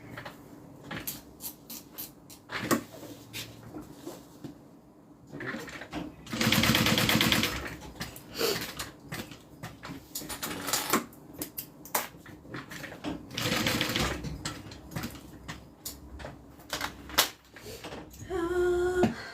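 A sewing machine stitches down a custom order in several bursts of whirring, separated by quieter gaps filled with clicks and handling noises, fairly close and moderately quiet.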